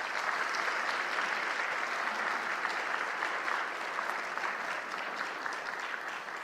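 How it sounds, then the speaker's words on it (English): Audience applause for the Queens of the Nile performers at a State of Black Long Beach community event, a steady wash of clapping from a crowd that stays even and moderately distant. "Give them a round of applause."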